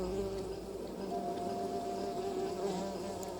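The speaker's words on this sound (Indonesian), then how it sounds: "Ada suara nyamuk lagi." A mosquito buzzes inside the video game LA Noire, a steady droning whine holding close and fairly loud for the whole stretch, alone with no voices over it.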